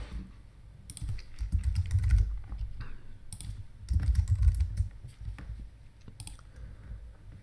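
Computer keyboard keys clatter close by in quick bursts of typing with short pauses between them, under a low rumbling background.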